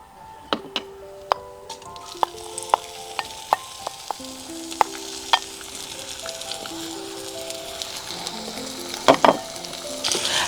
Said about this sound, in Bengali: ফার্স্টেই তেলটা গরম হয়ে যাওয়ার পর মাছগুলো অল্প করে ভেজে নিই